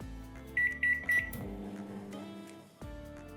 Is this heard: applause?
no